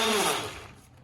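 Electric mixer grinder whirring as it blends fresh mint for an apricot chutney, loud at first and then tapering off as the motor winds down, with no talk over it.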